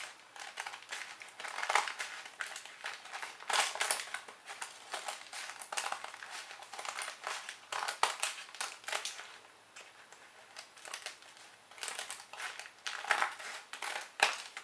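Scissors trim excess paper from a handmade birthday junk journal, giving quiet, close crunching snips and paper rustles in irregular bursts, with brief pauses between them.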